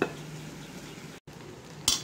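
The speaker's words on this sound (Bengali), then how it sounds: "আবারও কিছুক্ষণের জন্য এটাকে নাড়াচাড়া করে ঢেকে রাখবো।" Pulao rice for chicken biryani, about 1.5 kg, being stirred as it fries in a pot: a soft sizzle with scraping, plus sharper utensil clanks at the start and end.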